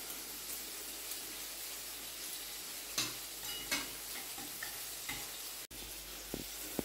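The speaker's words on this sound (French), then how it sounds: "Et là, on va remuer un peu." Chicken escalopes are stirred in a frying pan, giving a steady close sizzle with occasional scraping and tapping strokes of the utensil, and no one talking.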